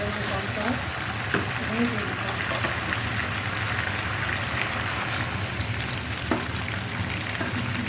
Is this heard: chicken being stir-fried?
yes